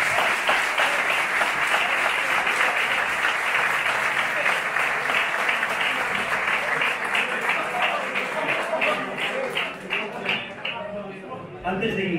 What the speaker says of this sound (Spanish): Para todos ellos, un fuerte aplauso.